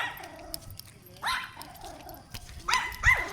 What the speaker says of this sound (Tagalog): Inaaway nila yung aso ni Lolo.